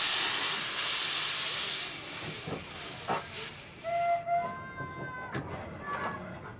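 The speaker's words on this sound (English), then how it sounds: "using this is Willie, Bill Parker's shunting engine." A steam shunting engine on a standard gauge rail line at a steam rally: a loud, steady hiss of escaping steam that thins out, then short whistle-like tones and a few clanks at middle distance.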